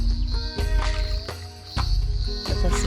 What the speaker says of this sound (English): during the day it's quite peaceful with the cicadas making a racket